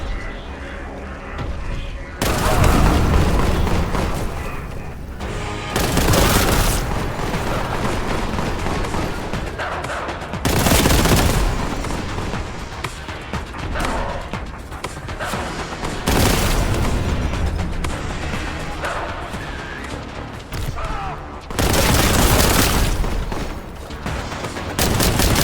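Enemies blowing up in the first-person shooter Warhammer 40k Boltgun, with dense bursts of loud gunfire and booming explosions, several heavy blasts standing out against continuous combat noise.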